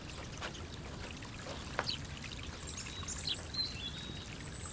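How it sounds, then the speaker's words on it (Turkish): A small creek flows in a steady, even trickle, with a few faint bird calls above the running water. "Dere var."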